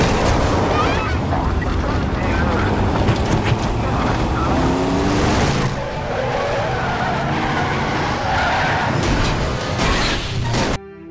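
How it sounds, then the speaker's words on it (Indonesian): Movie car crash on a bridge, the car rolling over several times: loud continuous skidding, scraping and heavy impacts over dense action-film sound with a score, ending abruptly. "Namun dia mengalami kecelakaan di atas jembatan hingga mobilnya terguling beberapa kali."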